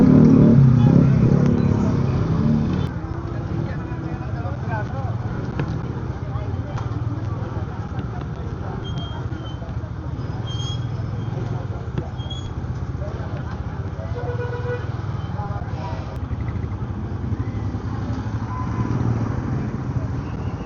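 Heavy rush-hour road traffic with jeepneys, cars and motorcycles in the Philippines: a continuous low rumble of idling and passing engines, fairly close, with people talking over it at times.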